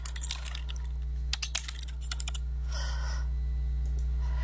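Someone types a comment on a computer keyboard in quick bursts of clicking keystrokes with short pauses, close and clear over a steady low electrical hum.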